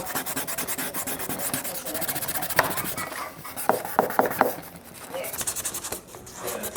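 320 grit sandpaper rubbing across a plastic Toyota Supra spark plug cover, a steady close scraping rasp with a few sharper strokes partway through.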